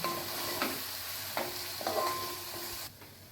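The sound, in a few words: carrots stirred into frying tomato rice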